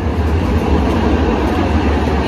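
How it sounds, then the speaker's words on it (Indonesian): Train pulling into a European railway station, a loud steady low rumble and rolling roar from close by that holds constant throughout with no voices. "Ini ada kereta yang baru datang"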